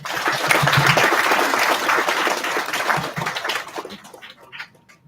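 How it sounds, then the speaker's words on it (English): Audience applause at an IIIT ceremony as guests are called to the stage, brisk dense clapping that swells early, then thins into scattered claps and fades out near the end. "Can we have a round of applause, please?"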